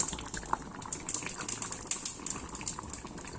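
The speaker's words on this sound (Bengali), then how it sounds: "এদিকে এখন আলু দিয়ে ঢেঁড়স ভাজি হচ্ছে" Okra and potatoes fry in a pan, giving a soft continuous bubbling sizzle with small irregular pops and crackles, quiet and close, no voices.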